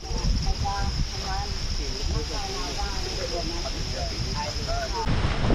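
Strong wind with rain on the Pha Dam hilltop in Suan Phueng, Thailand, a loud continuous roar buffeting the microphone throughout while someone talks over it.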